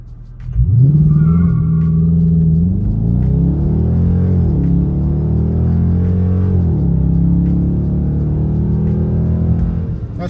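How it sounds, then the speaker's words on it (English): A 2021 Dodge Charger R/T's naturally aspirated V8 roars into a hard launch-control start, revving loud and steady with rising and falling pitch as it accelerates, close by and continuous for several seconds. "we're going to try launch control one more time"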